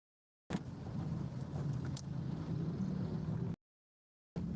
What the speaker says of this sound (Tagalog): Talaga naman, motor, e-trike.